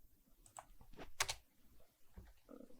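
Quiet clicks of typing on a computer keyboard: a few separate keystrokes, then a quick burst of taps in the middle and a couple more near the end, all faint and close in a silent room.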